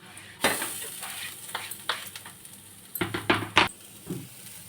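Tapioca and grated coconut being stirred in a pan, with a spoon scraping and clattering against the metal in irregular bursts over a faint sizzle, the strokes clustering toward the end; no talking.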